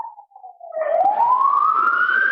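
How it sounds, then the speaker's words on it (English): Police siren rising in a loud sweeping wail, starting with a faint, wavering tone and then swelling into a strong, sustained, climbing pitch. "Damn, them sirens crazy loud"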